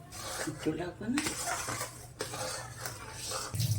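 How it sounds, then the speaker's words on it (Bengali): A metal utensil scrapes and clinks against a mustard-oil-coated pot as puffed rice is stirred with jaggery, with irregular scraping strokes and sharp knocks close up. "হাঁড়িটার মধ্যে একটু সর্ষের তেল মাখিয়ে নিয়েছি এর মধ্যে আস্তে আস্তে মুড়িগুলো দেবো আর গুড় দিয়ে পাকাবো"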